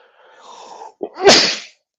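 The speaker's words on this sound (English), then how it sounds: "I'm so about to sneeze." A single loud, close sneeze: a breathy intake followed by a sharp explosive burst that trails off quickly.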